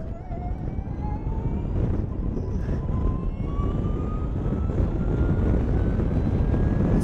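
A first-generation Formula E electric race car at full throttle, its rising electric whine climbing steadily in pitch over loud broadband road and wind roar, continuous and close throughout.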